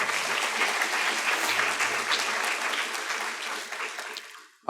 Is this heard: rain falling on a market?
no